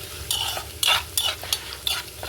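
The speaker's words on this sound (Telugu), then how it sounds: "వడియాలు వేయించుకుంటున్నాను ఫ్రెండ్స్ చూడండి" Vadiyalu, sun-dried fritters, frying in hot oil, with a steady close sizzle broken by several bursts of louder crackling as they are stirred, about five in quick succession.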